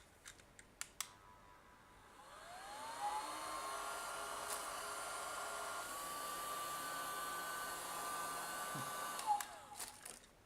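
A small USB handheld vacuum cleaner motor, opened up and powered from a bench power supply, spins up with a rising whine, holds a steady high-pitched hum for several seconds, then winds down, with clicks before and after.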